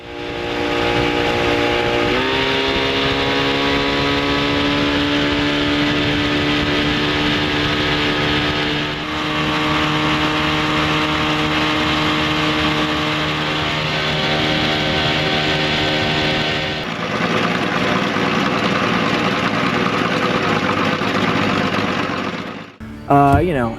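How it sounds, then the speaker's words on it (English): A Mercury two-stroke outboard engine drones steadily and loudly, holding a buzzing pitch that shifts a few times before cutting off abruptly near the end. "listen to the sweet sound of that Mercury 2-stroke engine anyway."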